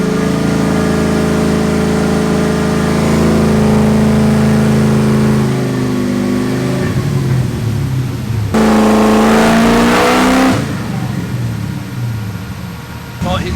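A supercharged LS3 V8 in a BMW E36 revs on a dyno, loud and close, its pitch rising and falling through sustained pulls with a brief lull between runs; voices talk over it at times.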